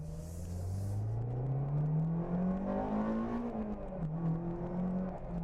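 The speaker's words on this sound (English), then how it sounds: "it sounds great with the engine short ram intake. VTEC engages hard" An Acura RSX Type S with a short ram intake, an exhaust and minor bolt-ons, not yet tuned, accelerates hard close by. The engine note climbs smoothly in pitch, dips briefly, then pulls again.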